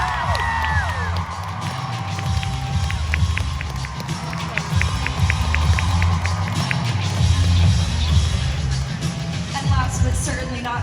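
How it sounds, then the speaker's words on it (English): A crowd at BookCon applauds and cheers for an author, a dense sustained wash of clapping with whoops and shouts throughout, loud and close, with scattered voices mixed in. "Give a warm round of applause"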